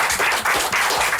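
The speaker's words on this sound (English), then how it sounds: "applause for these young ones" Loud crowd applause from a live podcast audience for two young guests, a short burst of continuous clapping close to the microphone.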